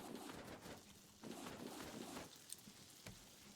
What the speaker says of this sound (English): Why are you birds making a bunch of noise up there?